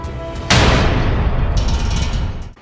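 A hip-fired gun in Rainbow Six lets off a loud sudden burst that rolls into a sustained, dense roar of shots and reverberation lasting about two seconds before cutting off.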